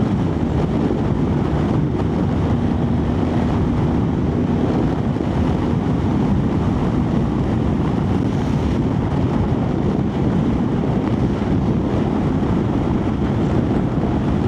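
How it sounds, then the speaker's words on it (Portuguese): Strong wind buffeting a microphone while riding a BMW R1300GS motorcycle, a loud steady roar and rumble throughout with no breaks, no talk. "Nossa, esse vento está realmente desagradável."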